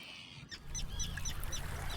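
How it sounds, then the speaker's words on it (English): Terns attacking a rock hunter give sharp, repeated squawking calls in a quick series over a low rumbling background, fairly close and loud. "I really don't want to bother these birds anymore."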